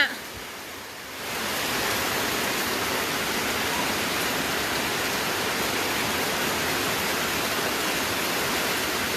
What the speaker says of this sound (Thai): ตอนนี้พิกัดบ้านสูบน้ำมาเร็วมากฝายขาด